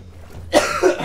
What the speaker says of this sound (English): I don't know why I still cough.